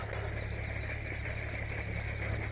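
A tractor engine runs steadily in a farm field during cumin sowing, giving a continuous low, even rumble with no pauses, close and alone without talk.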